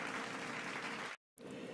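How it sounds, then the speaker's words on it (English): A round of applause rolls on steadily and fairly loud, breaks off into a brief moment of silence, then resumes at a similar level. "I would just like to start this video with everyone giving a quick round of applause to Jordan for his excellent diagramming skil"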